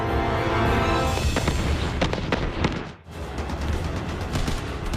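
Anti-aircraft guns firing shells over a city at night in February 1942, heavy booms and sharp bursts overlapping continuously with a brief lull midway, dense and rumbling throughout.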